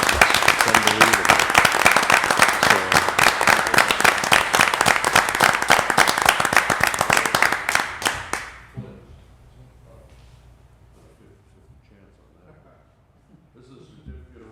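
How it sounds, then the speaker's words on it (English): Audience applause at a Bethel Park regular council meeting, a loud, dense burst of clapping that carries for about eight seconds before stopping abruptly and leaving a quiet room with faint murmurs. "Let's give him a round of applause."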